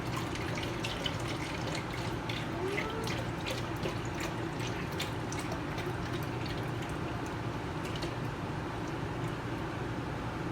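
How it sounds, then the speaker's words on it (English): Egg whites poured from a carton into a dish for a meal-prep quiche, a steady close liquid trickle and splash running continuously with small drip-like taps, no talking. "pour a whole thing of egg whites in there"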